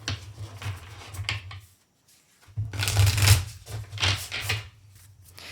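Oracle cards being shuffled by hand in bursts of crisp riffling and slapping, near and clear, with a short pause partway through and no talking over it.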